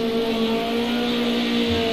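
A Porsche in Martini livery racing Group 5 cars at Hockenheim Classic in a sim racing game, its engine holding a steady loud drone with a sustained tonal whine throughout, alone without talk.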